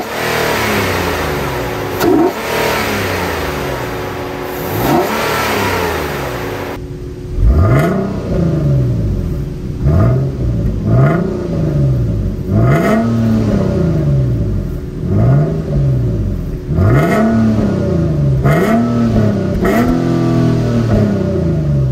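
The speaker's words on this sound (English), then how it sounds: "By far one of the most amazing sounding V6 engines out there, and one of the most and one of the highest revving V6s as well." A 2014 Infiniti Q50 V6, with its check engine light on from a failing catalytic converter, idles and then revs sharply about ten times in close, loud, rhythmic bursts that rise and fall.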